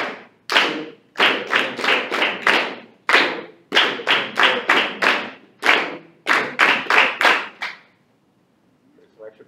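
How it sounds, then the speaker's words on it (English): A group of students claps a rhythm together in a classroom, several bursts of sharp, loud claps in steady groups of beats separated by short pauses, ending in near silence. "There's some extra clapping over here."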